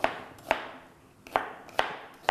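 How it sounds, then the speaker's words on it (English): A knife roughly chops onions on a cutting board, giving five or six crisp, close knocks at an uneven pace with quiet gaps between them. "onions. Rough chop."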